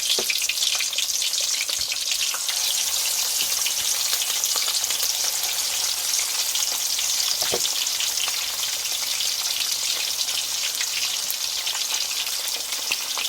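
Fish frying in hot oil in a pot for Jamaican escovitch, goldfish-style whole fish laid in the oil: a steady, dense sizzle and crackle runs loud and unbroken throughout, with no talking.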